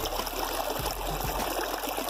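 Water flows steadily from a healing well at a Buddhist temple in Korea, a continuous close trickle and splash that runs alone for the whole moment.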